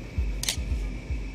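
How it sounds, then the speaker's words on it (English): A single quick mechanical camera shutter click, crisp and close, over a low rhythmic background hum. "you're gonna hear the shutter in just a sec"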